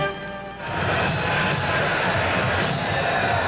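Boxing arena crowd roaring before the main event introductions, a broad, loud cheering swell that rises sharply and then holds steady, with no talking over it.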